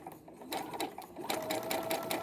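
A Brother SE-400 embroidery and sewing machine runs in short bursts, its needle chattering rapidly with a light mechanical whir, close and fairly quiet.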